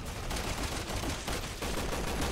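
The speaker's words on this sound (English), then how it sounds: "Let me shoot this thing." Rapid gunfire from the video game Resident Evil 6, a dense, continuous burst of shots filling the whole stretch at steady loudness, with no talk over it.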